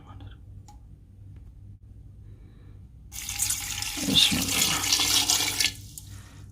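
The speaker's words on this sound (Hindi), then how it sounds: "पानी का सिर्फ मैंने 1 ही कप डाला है, ठीक है, पानी ज़्यादा नहीं डालना।" Water is poured into a pressure cooker holding half a kilo of washed beef keema: a quiet, spoken start, then a loud splashing rush of water for about two and a half seconds before it stops.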